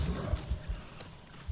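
Dire horse hooves thud in Avatar: Frontiers of Pandora, several heavy low footfalls in an uneven gallop close by, loud against a rumbling wash of ambient noise.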